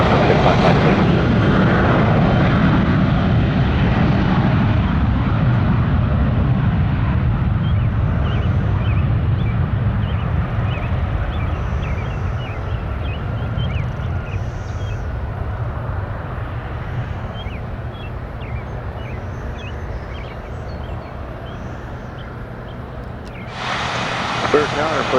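An airplane takes off at Spirit of St. Louis Airport, its loud engine roar filling the scene at first and then slowly fading as the aircraft climbs away.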